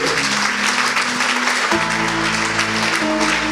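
A church congregation claps steadily and densely for several seconds, a continuous wash of many hands, with organ or keyboard tones sustained underneath.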